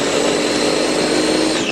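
A mixer grinder runs loud and steady, pulsing coriander and mint leaves for a lamb kebab. Its motor whine fills the clip without a break and nobody speaks.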